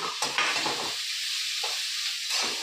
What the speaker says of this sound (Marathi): कांदे मस्त परतले आता ब्राऊन व्हायला लागला